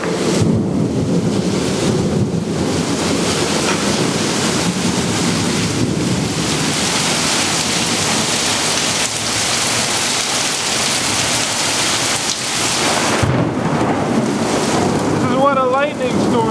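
Heavy rain roars outside an opened door, a dense steady wash of noise with gusty wind and occasional deeper rumbles, continuous and fairly loud throughout.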